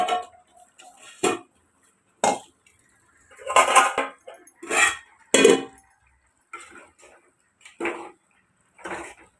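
Chicken biryani ingredients stirred in a pot, a series of separate metallic clinks and scrapes of a spoon against the vessel, spaced irregularly with quiet gaps between.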